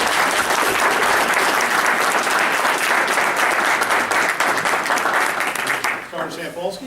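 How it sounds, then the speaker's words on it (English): Sustained loud applause from an audience at a borough council meeting, honoring three police officers, with dense clapping throughout that thins and fades near the end. "So would you please all give a round of applause to these three officers."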